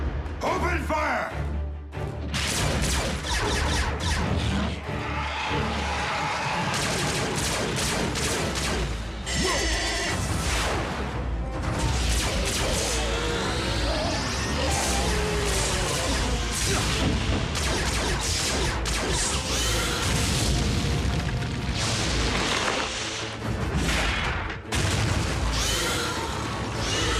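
Blaster gunfire and explosions in the Transformers: Prime animated series, a dense, loud, continuous barrage of shots and crashes with shouted voices and dramatic music layered on top throughout.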